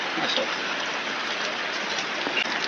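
Steady rain falling on a hut in a rice field, a dense continuous hiss with scattered drop patter and faint voices underneath.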